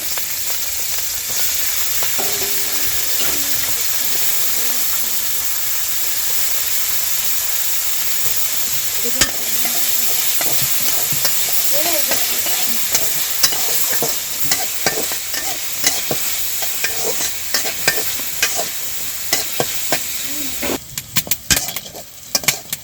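Sliced onion, green chili and garlic sizzle in hot oil in a pan for a mashed drumstick-leaf dish, a steady loud frying hiss broken by scraping stirs and clatters that grow busier near the end.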